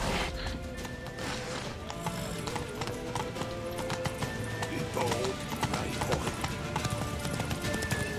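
Horse hooves galloping in the video game The Witcher 3, a rapid, continuous clip-clop rhythm up close with a horse whinnying, mixed with game music and effects as people talk over it.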